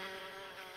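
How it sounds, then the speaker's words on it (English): Bees buzzing in the video game The Sims 4, a steady, close insect drone that is brief and continuous, with no talk over it. "Okay, it's just bees. At least it's only bees."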